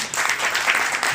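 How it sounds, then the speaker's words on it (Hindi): Loud, dense audience applause at a women's awareness award event in India, a steady wash of many hands clapping alone throughout. "तो जोरदार तालियां"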